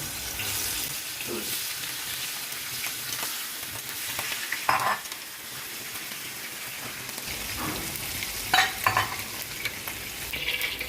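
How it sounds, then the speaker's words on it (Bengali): Fish frying in hot oil gives a loud, steady sizzle that fills the whole clip, with a few clanks and scrapes of a utensil in the pan. "আমি মাছটা ভেজে নিচ্ছি"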